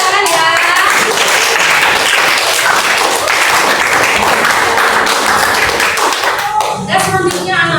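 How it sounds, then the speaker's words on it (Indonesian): A classroom of students claps for a group that has just finished presenting, with loud, dense, steady applause lasting several seconds and a voice coming in near the end. "Tepuk tangan ya."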